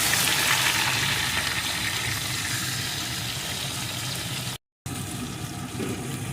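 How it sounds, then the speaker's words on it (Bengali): Green banana pieces sizzle steadily in hot oil in a pan while being prepared for a hilsa fish curry, a close, even crackling hiss with a momentary break. "এখন কলাগুলো সুন্দর করে ভেজে নেব"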